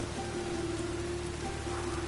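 Rain falling steadily as a soft, even hiss with a faint continuous hum underneath, heard alone and at moderate distance.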